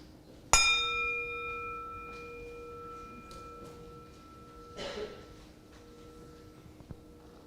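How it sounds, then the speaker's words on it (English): A single bell is rung once to open a Sunday worship service. It gives a sharp strike and a long ringing tone that slowly fades over several seconds against quiet room noise. "So I shall now ring the bell"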